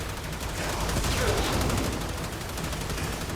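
Enemies in the video game Warframe, including a Corrupted heavy gunner, shoot at each other in a dense, unbroken roar of rapid automatic gunfire that stays loud throughout.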